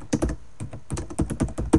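Fingers type rapidly on a computer keyboard, a close, crisp burst of irregular key clacks and thunks in quick clusters with short pauses between.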